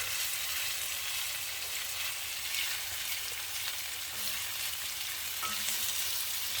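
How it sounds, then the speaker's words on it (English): Beef browns in a Dutch oven with a steady, dense sizzle and crackle, constant and moderately quiet, heard close up without voices. "You want to brown that meat."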